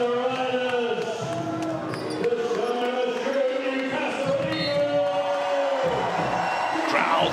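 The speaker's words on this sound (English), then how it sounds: "Crowd getting riled up." Basketball arena crowd at a British Basketball League game between Newcastle Eagles and Leicester Riders, a loud sustained roar of cheering and whooping filling the hall throughout, with a commentator's voice faintly under it.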